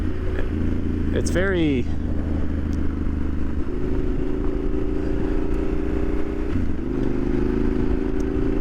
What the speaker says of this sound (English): that motor sounds absolutely glorious. It's like a mix of a Ducati